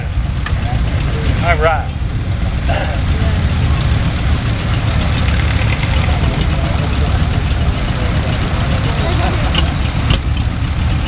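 A Case 430 tractor with a hand clutch rolls by in a tractor parade, its engine running with a steady low rumble that continues throughout, while a person briefly speaks over it.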